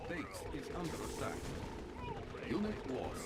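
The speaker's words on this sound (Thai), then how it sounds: "เจอปืนกลหนักนะ" Heavy machine gun fire in the Yuri's Revenge strategy game, a steady rattling burst with booming impacts mixed in, sitting under an excited voice talking throughout.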